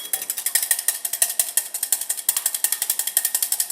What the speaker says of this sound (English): 1 egg. Okay, and just whisk this.